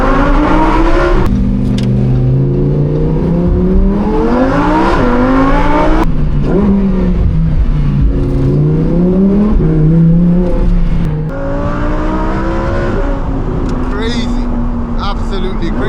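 A Lamborghini Huracan Performante engine roars while driving, heard from inside the car as loud revs rising and falling through gear changes, with sharp shift breaks in a continuous aggressive tone.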